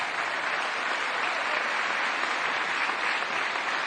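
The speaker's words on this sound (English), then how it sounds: "Give yourselves a round of applause." Steady applause from a crowd at a high school basketball game, dense and even throughout, with no voices standing out.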